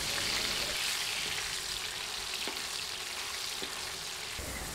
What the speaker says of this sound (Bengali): আলুর সাথে সামান্য লবণ দিয়ে নেড়ে পিসগুলো ভেজে নিব